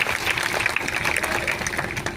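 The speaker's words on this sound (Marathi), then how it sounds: "त्यांच्यासाठी आता टाळ्या वाजवा" A large crowd at an outdoor Ambedkarite protest march claps continuously in a dense, even wash of applause, with no distinct voices.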